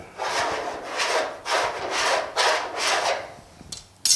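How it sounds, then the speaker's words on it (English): Sandpaper worked by hand across a car door panel on a GTO restomod, six or seven even back-and-forth rasping strokes, close and clear, ending with a couple of light knocks. "we're just going to take a piece of sandpaper, kind of sand our marks out, and then do it again"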